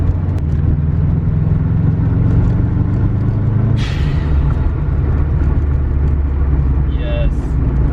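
A Subaru WRX, running again after an engine swap, idles with a steady low rumble close by, and a brief higher hiss cuts in midway while people talk over it.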